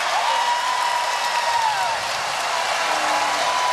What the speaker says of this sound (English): And the crowd rages on here at the Stan Sheriff Center.